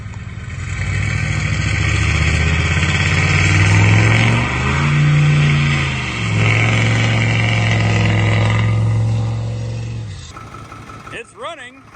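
A heavy diesel truck engine runs with a deep, steady rumble that dips and surges briefly, then cuts off near the end, leaving faint clatter.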